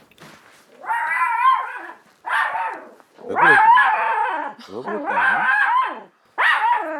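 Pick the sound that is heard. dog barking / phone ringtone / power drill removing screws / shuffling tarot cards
dog barking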